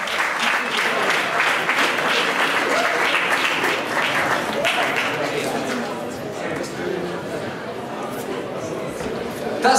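A crowd at the 2015 LMA music awards applauds the winner of the Best Electronic Dance prize. The clapping is dense, loud and sustained for about ten seconds, with crowd chatter mixed in.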